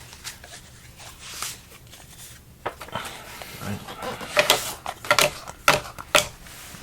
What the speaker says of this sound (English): This will be flipped back over while he's shuffling it up